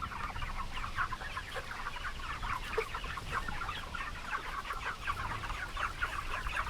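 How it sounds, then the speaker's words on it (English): Pasture-raised chickens in an outdoor flock cluck continuously, with many overlapping rapid calls close by. Low background noise runs underneath and no one speaks. "we're standing in Greg's pasture-raised chicken operation"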